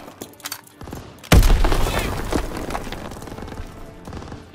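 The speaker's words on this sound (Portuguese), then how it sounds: "Lançando granada!" A grenade exploding in the Call of Duty: WWII video game, a single sudden loud blast followed by a rumbling, crackling tail and debris, after a brief shouted line and light battle noise.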